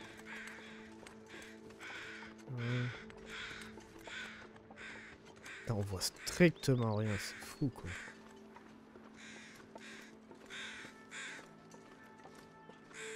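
In The Long Dark, crows gathered near a wolf let out rough, spaced caws, some loud and close, as someone talks in French between them.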